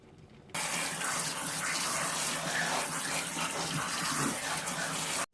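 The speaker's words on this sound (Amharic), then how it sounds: "ውሃውን እናጠፋውና ቀዝቃዛ ውሃ እናፈስበታለን" Cold water suddenly gushes from a tap in a strong, steady stream, loud and close, then cuts off abruptly.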